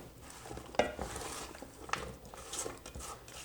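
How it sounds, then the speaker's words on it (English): Spoon stirring swamp potatoes and sausage in a cooking pot, giving soft scraping and a few sharp clinks against the metal, with faint sizzle beneath. "Okay, and then we stir it up."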